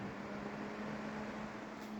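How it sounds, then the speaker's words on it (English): Fans in a newly built PC hum steadily as a quiet, even whoosh with a constant low tone, faint and unchanging, with no talking. "So the noise you're hearing is actually from the fans."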